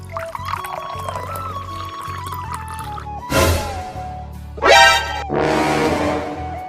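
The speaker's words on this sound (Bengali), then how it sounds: "এই পানিটা নিচে ফেলে দেই।" Water poured down from above onto the floor during an indoor comedy skit, arriving as three loud, splashy bursts over steady background music.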